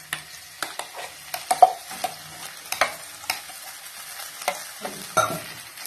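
Ground masala and tomato for Kerala-style chickpea kadala curry sautéing in a pan, a soft sizzle under repeated spoon strokes, scrapes and taps at an irregular, fairly quick rhythm, close by.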